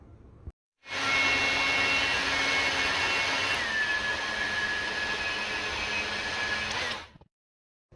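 A heat gun blows steadily on heat shrink tubing over boat cables, a loud even airy roar starting after a click and running about six seconds before cutting off.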